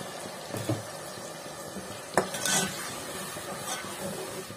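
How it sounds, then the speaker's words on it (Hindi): Ground tomatoes hit hot oil with golden-fried ginger and garlic in a home kitchen pan, giving a soft steady sizzle with a couple of louder clatters of a spoon stirring against the pot. "अदरक लहसुन भी हमारा गोल्डन फ्राई हो गया है, अब मैं इसमें डालूंगी टमाटर।"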